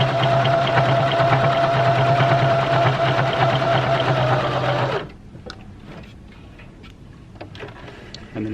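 A sewing machine runs at a fast, steady whir for about five seconds, then stops abruptly, leaving quieter clicks and handling taps.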